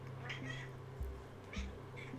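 A cat meows twice in a video game, short, faint cries over a steady low background hum.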